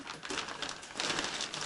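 A New Year's tea gift packet is handled up close and gives a brief, bright crinkle of plastic wrapping in two quick bursts.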